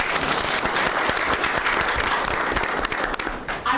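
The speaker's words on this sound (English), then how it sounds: "And so let's give them a round of applause." Loud, dense applause from a forum audience honoring event organizers, many hands clapping at close range in a steady roar that keeps going before starting to thin out at the end.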